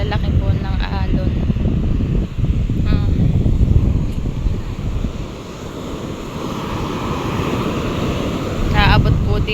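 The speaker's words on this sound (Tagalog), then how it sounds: "Ay po kalalaki po ng alon." Big sea waves surge and break at the shore at sunrise, a loud, rolling wash that swells and eases, with heavy wind buffeting the microphone and a person talking at moments over it.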